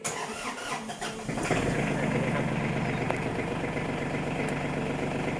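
An Iseki TG-233 small diesel tractor with power steering cranks briefly, then catches and settles into a loud, steady, chugging idle close by.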